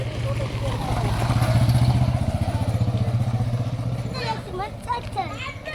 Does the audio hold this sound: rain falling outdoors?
no